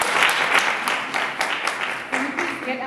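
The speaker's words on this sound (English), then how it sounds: "Let's give them another round of applause." An audience at a school science debate during National Science Week gives another round of applause, a dense, lively burst of clapping that fades toward the end as a voice begins speaking.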